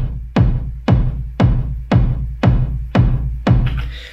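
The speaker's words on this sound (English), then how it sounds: "you can see that I've got a kick on every quarter note" An Elektron Analog Four plays a steady four-on-the-floor kick drum pattern of seven deep, punchy thumps evenly spaced about half a second apart, each with a quick falling pitch and short decay, and there is no talking.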